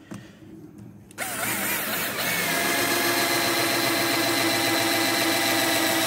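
A power drill bores into wood for a handmade wedding cross, starting after a moment of quiet, revving up and then running loud and steady up close.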